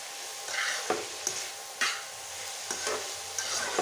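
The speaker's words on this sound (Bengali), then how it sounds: "খেয়েছি এখন নেড়ে নিচ্ছি" Banana stem and dried fish fry in a pan and are stirred with a spoon, giving a soft steady sizzle marked by several distinct scraping strokes spaced out over the clip.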